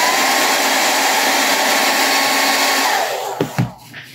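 A hair dryer blows on a wet brush with a steady, loud, close whooshing roar for about three seconds, then switches off with a couple of soft clicks and handling sounds.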